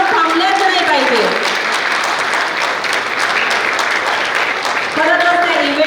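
Enthusiastic audience applause fills a school achievement celebration as grandparents are honored on stage, steady and loud throughout, with a voice talking over it at the start and again near the end.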